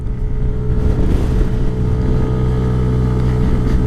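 A SYM Cruisym scooter engine at full throttle while overtaking, a loud steady drone close to the rider, mixed with buffeting wind noise.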